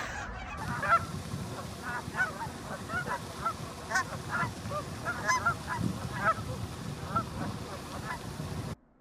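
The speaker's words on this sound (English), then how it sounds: "I got some footage of the cackling geese" A flock of cackling geese honking and cackling continuously, many overlapping calls at moderate distance with steady outdoor background noise.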